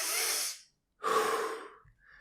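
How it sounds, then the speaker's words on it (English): Two deep belly breaths drawn through the diaphragm, a long airy exhale followed after a short pause by a fuller breath, close and clear with nothing else around. "when you breathe through your belly,"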